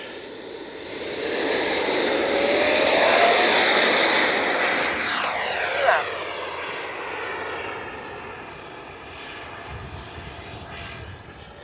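A Freewing MiG-29 Fulcrum radio-controlled jet with 80mm ducted fans takes off in hot weather. Its loud, steady whooshing roar swells and then slowly fades as it climbs away, and nobody speaks.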